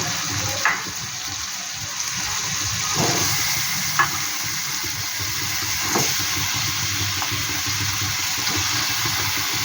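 Chicken pieces frying in spiced masala for Bengali coconut chicken, a steady hiss and sizzle with a few soft clinks and stirring knocks from the pan, no talking.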